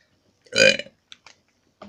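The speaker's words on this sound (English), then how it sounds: "And then you burped." One loud, close burp stands alone, followed by a few small mouth sounds.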